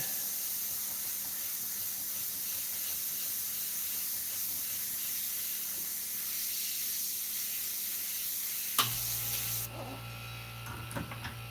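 Iwata airbrush spraying Createx paint for a red Corvette Stingray on Claybord, a steady close hiss of air and paint that runs continuously, then changes character and drops near the end.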